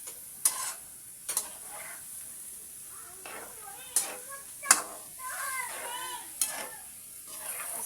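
A spoon stirs ginisang sayote (sautéed chayote) in a pan after water is added, giving several sharp scraping strokes over a soft sizzle, with a person talking between strokes.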